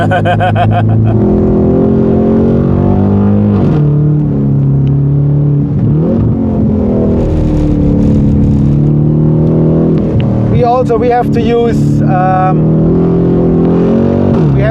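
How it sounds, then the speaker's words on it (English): An Aston Martin Formula 1 safety car engine revs and drones loudly close by, pitch climbing and dropping through gear changes, with a voice briefly speaking over it. "many people are saying, well, the safety car sound is the best sound during the weekend."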